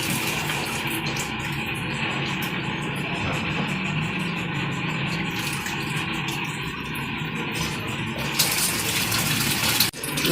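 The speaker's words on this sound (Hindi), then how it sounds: "ये पूरा है ना टैंक भर गया, तो बाहर तक ये पानी आ रहा है।" Water pours out of a full water tank as it overflows, making a continuous, loud rushing gush that barely changes throughout.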